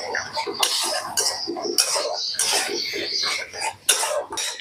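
A utensil scrapes and clinks against a pan as okra is stirred with soy sauce and red chili sauce, in quick, irregular strokes up close, with a cough-like throat sound in between.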